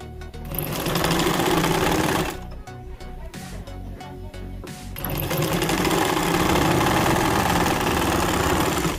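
A sewing machine stitches fabric for a maxi dress neckline with a loud, rapid mechanical whir, pausing briefly in the middle for a few clicks before running steadily again.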